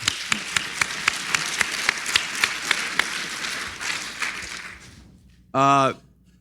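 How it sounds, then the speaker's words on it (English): Audience applause at a government workforce summit keynote, a broad wash of clapping with a steady rhythmic beat running for about five seconds, then fading out before a short burst of speech. "So let's have an applause for that."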